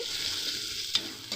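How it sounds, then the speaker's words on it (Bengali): Garlic paste fries with spices in a pan for Kashmiri aloo dum, a quiet, steady sizzle with two sharp scraping clinks of a stirring spoon near the end. "এবারে দিয়ে দেবো বেটে রাখা রসুন কুচি"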